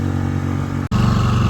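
A new Tohatsu 6HP outboard engine, still being run in on a Boatworld 300 inflatable boat, drones steadily at wide open throttle, loud and close, with a brief dropout midway before the even roar resumes.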